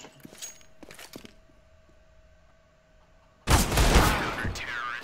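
Gunfire in a CS:GO Wingman match, a few sharp shots early, then a quiet stretch and a sudden loud burst of rapid automatic fire and explosive crackle near the end.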